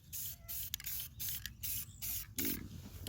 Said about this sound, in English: I don't spray real heavy because I'm going to do a few different coats real light